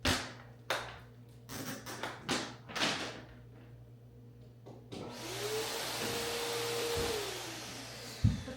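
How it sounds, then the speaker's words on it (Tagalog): A household vacuum cleaner switches on and runs with a steady whine and a rising then falling pitch, after scattered thumps and handling knocks while cleaning a room. "Nalabas ko ng vacuum guys."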